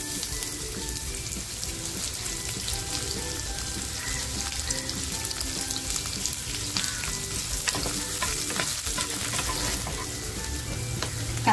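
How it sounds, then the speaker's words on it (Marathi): Chopped onion sizzles steadily in oil in a kadhai while cooking a Kolhapuri mutton rassa, a dense, even crackle with occasional stirring scrapes and no voices. "त्याच कढईमध्ये बघा तेल थोडंसं टाकते आणि जो कांदा कापून घेतला होता तो कांदा टाकते"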